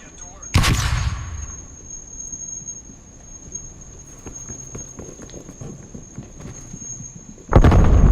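A frag grenade explodes in a video game: a sudden loud blast near the start and another at the very end, with quieter game noise rumbling in between.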